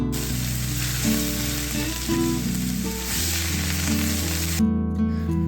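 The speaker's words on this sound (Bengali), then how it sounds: "এবারে গরম তেলে ছেড়ে দিলাম একটু শুকনো লঙ্কা আর সাদা জিরে দিয়ে এবার পেঁয়াজটা সুন্দর করে এবার ভেজে নেব" Onions frying in hot oil with dried red chilli and white cumin, a steady close sizzle running throughout with occasional stirring, cutting off toward the end.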